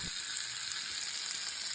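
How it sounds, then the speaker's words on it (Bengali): Onion, garlic, tomato and egg fry in hot oil in a wok, giving a steady, close crackling sizzle that runs without a break and then cuts off abruptly at the end. "পেঁয়াজ কুচি রসুন কুচি ও টমেটো কুচিগুলো কড়াই দিয়ে দেবো পেঁয়াজগুলো একটু লাল লাল করে ভেজে নেবো এরপর একটু ডিম ভেঙে ভেজে নেব"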